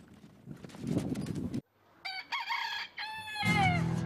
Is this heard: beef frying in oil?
no